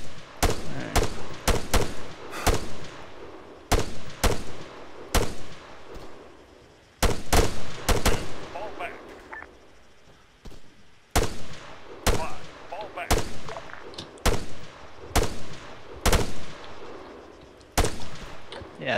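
Rifle shots in Arma 3, sharp loud cracks fired in irregular bursts and single reports across the whole stretch, with brief pauses between volleys and a short lull in the middle.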